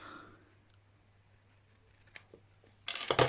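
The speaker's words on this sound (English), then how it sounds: "I'm going to get my my gold label, and I'm just going to cut it in half" Scissors snip through a gold craft label, faint hush at first and then a loud, close burst of sharp cutting crunches near the end.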